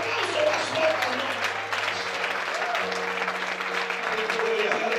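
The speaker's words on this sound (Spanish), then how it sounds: "A ese aplauso más fuerte" A church congregation claps together in a lively burst of applause, dense and sustained, while a voice and faint sustained keyboard-like tones carry underneath.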